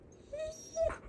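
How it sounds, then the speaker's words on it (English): A dog gives a short, high-pitched whimper, two thin whining yelps close by in a quiet setting. "Wild dog."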